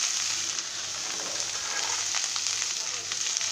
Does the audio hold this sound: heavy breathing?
no